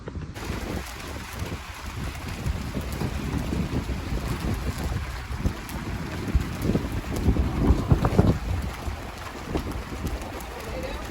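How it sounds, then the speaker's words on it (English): Strong wind roars steadily and buffets the microphone, with gusts swelling louder partway through; a voice may be faintly present under the noise. "You can see the wind here is picking up."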